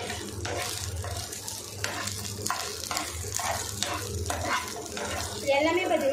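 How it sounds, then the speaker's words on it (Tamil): Onions and dried red chillies sizzle and crackle in a hot pan over a low flame while a utensil stirs them in repeated scraping strokes, fairly close and moderately quiet. "எல்லாமே பார்த்தீங்கன்னா லோ ஃப்ளேம்லேயே வதக்கிக்கலாம்."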